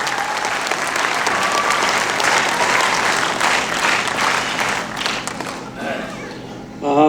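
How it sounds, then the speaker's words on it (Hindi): Applause from an audience at an Ahmedabad tribute concert honouring the nation's heroes, dense sustained clapping filling the room, then tapering near the end as a voice begins speaking. "एक बार उनके लिए जोरदार तालियां हो जाए."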